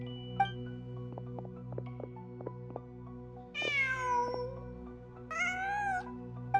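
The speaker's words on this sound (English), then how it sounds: "Just a cat." A cat in Genshin Impact meows twice, a long rising-falling cry and then a second shorter one, clear and close over quiet game ambience with soft plucked tones.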